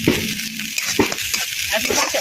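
Chili powder sizzles in hot oil with ginger-cumin paste while a home-style vegetable dish cooks, giving a close, steady hiss broken by a few soft stirring scrapes.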